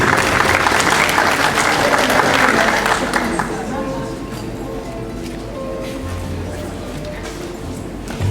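Audience at a university competition semifinal applauds a speaker, a council member, with dense clapping that is loud at first and then thins, continuing under some voices.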